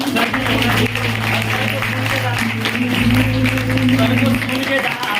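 An audience at a celebration applauds a mentor, a steady wash of many hands clapping over a low constant hum, with voices mixed in.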